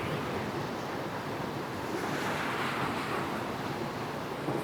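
Wind sweeps steadily across the high Khardung La mountain pass near cold running water, a continuous, loud broadband roar with no pause and no voices.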